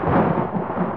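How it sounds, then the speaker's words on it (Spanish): Storm thunder from the horror video game Outlast, a loud, dense, low rumble that rolls steadily through a single second without any speech. "La puta tormenta."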